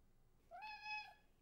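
A cat gives a single clear, mid-length meow, close and fairly quiet in a still room, rising at the start and holding steady before trailing off.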